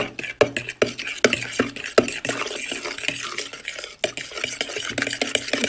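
Ginger garlic paste, salt and cinnamon powder being mixed for fried chicken: brisk, repeated scraping and clinking of a spoon against a bowl, close and busy, with a faint frying hiss beneath.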